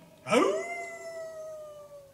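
A dog in a musical children's story lets out a single drawn-out whine that rises sharply and then holds a long, fading plaintive tone, close and alone.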